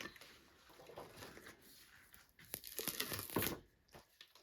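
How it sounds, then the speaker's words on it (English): Thin protective plates peeled from gel printing plate prints give a quiet crinkly tearing rasp, with a louder peel near the end. "So let's peel off the protective plates."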